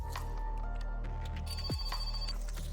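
A telephone rings inside the My Winter Car video game, a steady electronic bell repeating throughout over a constant low engine-like drone, with a brief descending sweep partway through.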